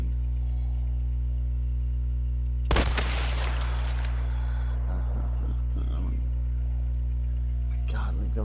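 A shotgun fires point blank in the game Hunt, one loud sharp blast with a crackling tail over a steady low hum, followed by smaller clatters and knocks.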